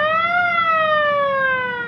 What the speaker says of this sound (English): We have an electric siren.